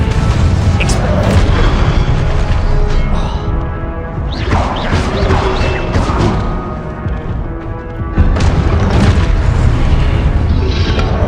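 Fiery spell explosions from the Hogwarts Legacy combat game, with dense booming blasts and crashing debris over a continuous loud battle din, interrupted briefly by shouted voices.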